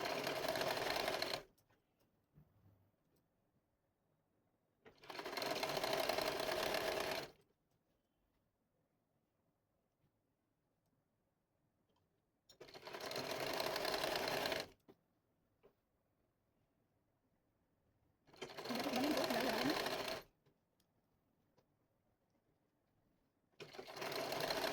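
A sewing machine runs in five loud, whirring bursts of about two seconds each while stitching elastic onto a pair of pants, with near-silent gaps between runs.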